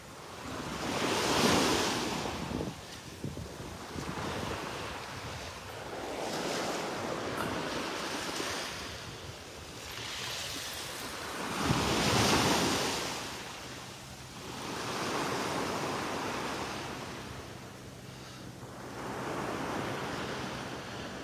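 Ocean waves roll onto the beach at Delnor-Wiggins with a steady hiss and swell, several surges building and receding in slow rhythm, with some wind noise on the microphone and no talk.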